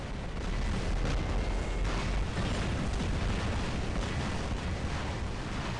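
Detonation blast in the War Robots video game, a loud, sustained rumbling explosion that holds a thick, even roar for several seconds with no talk over it.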